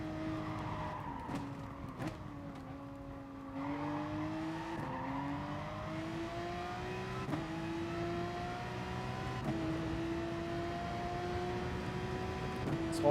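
Race car engine lapping Mount Panorama in a racing video game, a steady droning rev that climbs through gears with brief dips at shifts, up close and loud with no talk.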